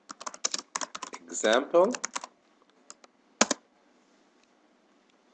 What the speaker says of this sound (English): So I need to type something over it.